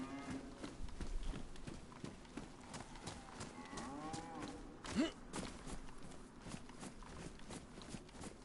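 A cow in DayZ lets out a single drawn-out moo near the middle, moderately faint, over a steady background of hoof clops and footsteps, with some quiet voices present.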